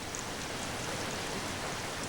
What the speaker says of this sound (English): The next day, heavy rain sets in.